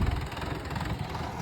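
A Sonalika 750 III tractor fitted with a turbo sits idling nearby, its diesel engine giving a steady low rumble with an even, continuous throb and no speech over it.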